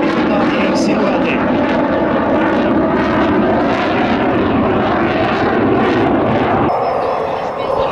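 An Extra 300 aerobatic propeller plane flies at an air show at Čáslav aerodrome, its engine droning loud and steady throughout while a commentator talks over it.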